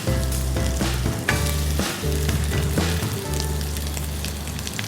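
Browning onions frying for Laal Maas, a loud, dense sizzle over a low steady hum, with occasional stirring scrapes in the pan, nearby and without talk.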